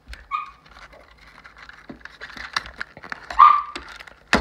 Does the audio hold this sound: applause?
no